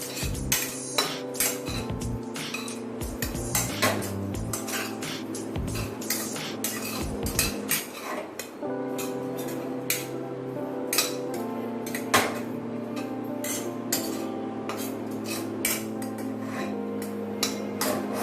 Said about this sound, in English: After adding the desiccated coconut, roast it in the ghee for about few minutes.